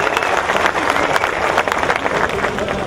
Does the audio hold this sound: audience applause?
yes